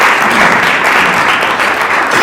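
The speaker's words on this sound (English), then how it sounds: "Round of applause, please." An audience at a theater troupe event claps in a brief, full burst of applause, loud and continuous without pause.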